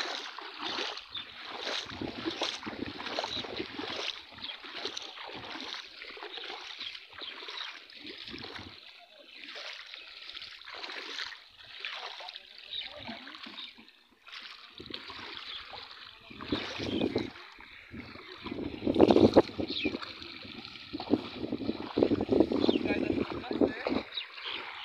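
Floodwater runs over a submerged road in a steady rushing, trickling current with occasional splashes, heard under frequent nearby talk.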